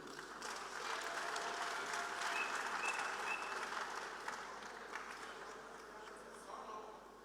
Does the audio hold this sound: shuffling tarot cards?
no